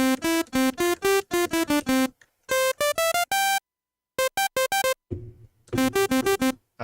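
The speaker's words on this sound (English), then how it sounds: "And we also got a sawtooth" Synthesizer sawtooth wave, bright buzzy notes played in rapid melodic runs with brief pauses between phrases, loud and close, with no voices.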